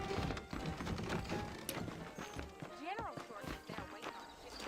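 Horse hooves clip-clop in a steady rhythm in the video game Red Dead Redemption while a horse whinnies midway and a person speaks over it.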